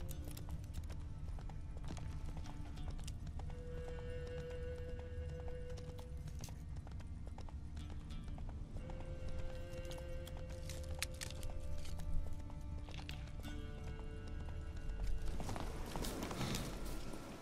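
Rhythmic clip-clop of horse hooves at a steady run in The Witcher 3: Wild Hunt, with occasional snorts and whinnies, over a constant background hum; no talking.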